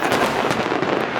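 Dense, continuous crackle and booming of fireworks bursting at a Vancouver fireworks festival, Team Quebec's show at the Honda Celebration of Lights 2025, loud and sustained with overlapping reports.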